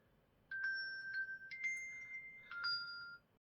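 A phone ringtone plays a bright electronic melody of clean beeping notes for about three seconds, close and clear, then cuts off abruptly into silence.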